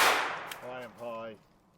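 A Hi-Point 995 9mm carbine fires a single loud shot right at the start, its sharp crack trailing into a fading echo before a voice speaks briefly.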